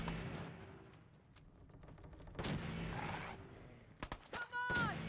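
Gunfight in Fallout 4 with scattered shots and bursts of fire, moderately distant and mixed with shouting voices and clanking game sounds, ending in a cluster of louder, sharper reports.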